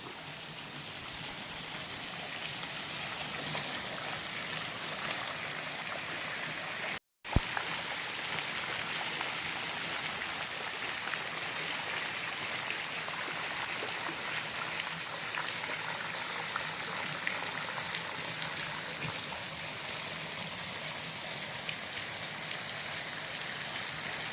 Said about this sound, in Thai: น้ำก็สิย่อยมาทั้งหน้าผาพี่ครับ